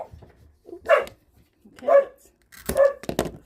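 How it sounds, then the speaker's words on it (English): A small French bulldog barks close by, three or four gruff, separate woofs spaced about a second apart, the last ones coming in a quick pair, with quiet room sounds between. "First bark there was stunning, my little French bulldog"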